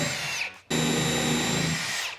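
A power drill drives pocket hole screws into wood planks for an outdoor coffee table, whirring loudly in two close bursts, a short one and then a longer sustained run, with no talk.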